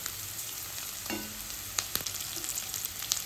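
Curry leaves dropped into hot oil with fried ginger-garlic paste while cooking dal masala khichadi. A faint, steady sizzle with a few sharp crackles and pops, nearby and quiet, with no talking.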